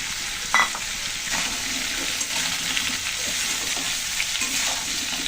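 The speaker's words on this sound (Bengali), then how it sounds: "সয়াবিনগুলো এখন দিয়ে দিচ্ছি, একই সাথে ভাজা হয়ে যাবে।" Soya chunks fry with potato, pointed gourd and papaya in a pan, a close continuous sizzle broken by scraping stirs and the occasional clatter of a utensil, with no speech.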